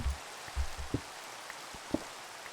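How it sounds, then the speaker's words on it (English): Rain falls in the Minecraft video game, a soft steady hiss of drizzle with scattered low, pattering drops landing on surfaces, quiet and with no voices. "raining again."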